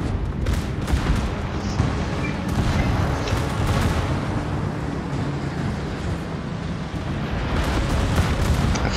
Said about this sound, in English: And secondary guns are opening fire.